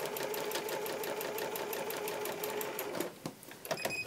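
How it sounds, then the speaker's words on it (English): A sewing machine stitches a quilt block seam out to the block's edge with a quiet, steady, rapid clatter. It pauses near the end, then gives a few short bursts. "I'm going to sew to the edge of the block again"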